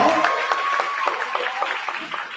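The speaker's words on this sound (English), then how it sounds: "Let's give him a round of applause." An audience at a graduation and promotion day ceremony gives a round of applause, with many hands clapping in a continuous, even patter that fades slightly toward the end while a voice carries over the start.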